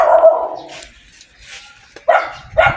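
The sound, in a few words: dog barking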